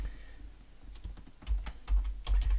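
Keys on a computer keyboard are tapped in a quick, quiet burst, with several soft clicks clustering near the end and no talking.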